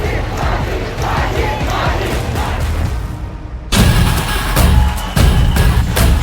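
A protest crowd at Badlapur railway station roars and chants in a dense, continuous wall of voices, swelling to a louder surge partway through and staying loud to the end.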